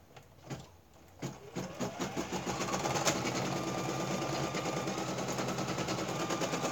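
Embroidery machine stitching a fabric coaster, starting with a few separate thumps and then settling into a fast, steady mechanical rattle of stitches that builds and holds close by.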